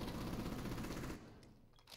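Suppressed gunshots in a shooter video game, a rapid burst of muffled automatic fire for about a second, then it stops, with faint clicks after.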